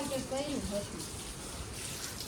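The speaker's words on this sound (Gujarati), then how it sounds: "અહીંયા જો પાણીનું પાવાનું કામ ચાલી રહ્યું છે આરાધ્યા બેન ને દિવ્યા ને બધા અહીંયા નીચે પા" Water flowing steadily outdoors during watering work, a soft, faint rushing with indistinct voices briefly at the start.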